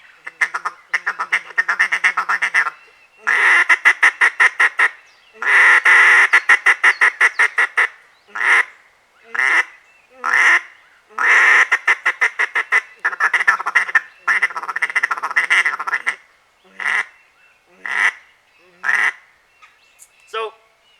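Duck call blown in quick rhythmic bursts of raspy quacks, sometimes long rapid runs and sometimes short single honks, loud and close, with pauses between sequences.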